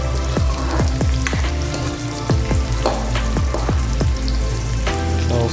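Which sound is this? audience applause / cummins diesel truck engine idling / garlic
garlic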